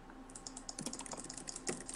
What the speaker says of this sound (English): I face rolled the keyboard because I fucking.